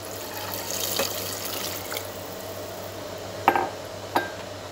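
Two cups of water pour into a cooking pot, a steady close splashing flow punctuated by a couple of sharp clinks near the end.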